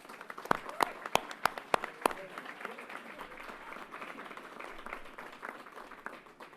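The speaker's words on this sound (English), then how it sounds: "Let's give her another round of applause" An audience at Yankee Stadium applauds during a governor's announcement event. A few crisp, evenly spaced claps sound close by, then a wider wash of crowd clapping carries on at moderate volume.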